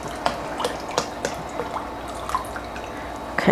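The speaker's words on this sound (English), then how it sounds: "So I'm going to do 1 cup at a time, or at least try to, and pour this in." Liquid pours a cup at a time into a bowl of cornbread dressing mix, giving soft close splashes and drips in an uneven rhythm, with no talking.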